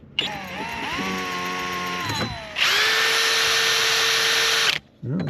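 A power drill whines steadily at close range through the metal of a Honda Odyssey van, then pitches up into a harder, higher-speed grind for a couple of seconds before breaking through and stopping.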